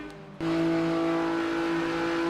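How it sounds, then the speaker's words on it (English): Engine of a BMW race car heard from the onboard camera in a sim racing game: a steady, loud, sustained drone that kicks in abruptly after a brief quieter moment and holds a constant pitch, with no talking. "He's in a BMW, and listen to the difference of the engine."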